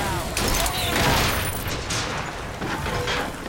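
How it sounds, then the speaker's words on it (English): Dense, rapid gunfire from the video game BioShock Infinite: Clash in the Clouds, a loud continuous barrage of shots and booms running the whole stretch, with a voice talking over part of it. "Who keeps shooting at me?"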